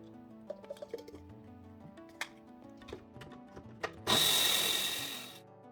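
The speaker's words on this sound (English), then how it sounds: "Let's grind our red lentils." A small electric grinder runs through red lentils for about a second and a half, a loud steady whirring buzz that starts abruptly after some soft clinks and taps and then fades slightly before cutting off.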